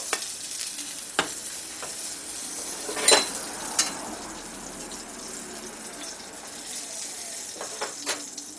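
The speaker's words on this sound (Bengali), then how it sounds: "একই রকমভাবে বাদ বাকি দুটোকেও আমি ভেজে দেব" Prawn paturi wrapped in taro leaves frying in a pan, a steady close sizzle with occasional sharp clicks and taps of a utensil.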